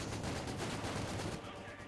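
Dense, continuous gunfire from machine guns and autocannons in a Company of Heroes 2 match, a steady loud clatter of overlapping bursts throughout, easing slightly at the end.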